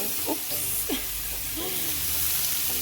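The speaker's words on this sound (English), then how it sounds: "So I'm adding my bacon to my hot skillet" Bacon strips sizzle steadily on low heat in a hot skillet, a constant close hiss with a few brief stirring scrapes and no talking.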